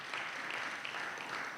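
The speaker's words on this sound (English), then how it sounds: "Kenyans, you must clap for yourselves because this is really something." An audience at a Kenyan political forum on coalitions and governance claps in a steady, even wash of applause, heard faintly and from a distance.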